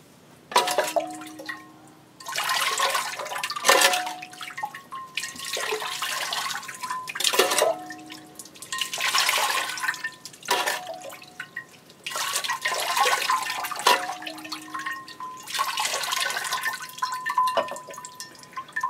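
Water splashes and trickles onto soaked moss in repeated bursts, with steady dripping in the pauses between pours; close and moderately loud, no voices.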